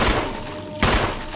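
Gunfire in the video game Resident Evil, two loud booming shots close together, heavy and full with no talking.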